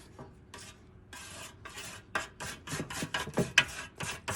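A palette knife scrapes and mixes paint on a palette, giving a series of close, rasping strokes that start spaced apart and quicken into a rapid back-and-forth rhythm.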